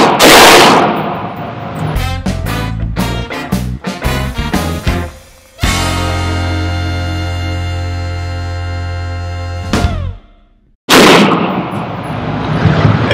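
Sharp, loud pistol shots from a CZ 75 P01 Omega handgun at an outdoor range, firing reloaded ammunition in an uneven string of rapid reports with metallic ringing, then a pause and a final burst.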